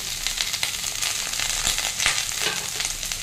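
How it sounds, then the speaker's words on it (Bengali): Vegetables, boiled cauliflower stems and tomato frying in a pan, a loud, dense crackling sizzle that runs without a break, with faint stirring scrapes underneath. "সবজিগুলো একটু ভাজা ভাজা হয়ে গেছে।"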